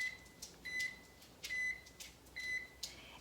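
Air fryer control panel beeping as settings are keyed in, four clear short electronic tones spaced unevenly among soft button presses, close and fairly quiet in a kitchen with no talking.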